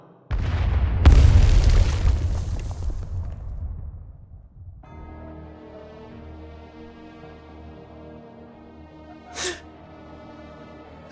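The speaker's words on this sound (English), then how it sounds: "An explosion from the forest." A video game explosion in a forest: a deep, loud boom with rumbling burst and debris, fading over several seconds into a steady humming background with a short sharp crack later.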